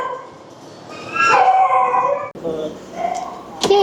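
Little puppies yip, whine and howl in a barn intake area, high rising cries overlapping near the listener, with a person talking softly among them.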